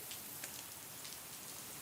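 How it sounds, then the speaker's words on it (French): Steady rain falls outside, a continuous soft hiss of drops on surfaces with no voices, broad and even throughout. "Il pleut."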